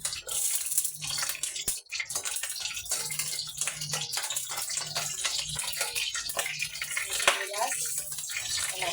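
Garlic sizzles and pops in hot cooking oil in a pan, a steady close crackling hiss with occasional sharper spits, and a voice is faintly heard.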